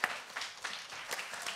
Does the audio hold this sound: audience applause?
yes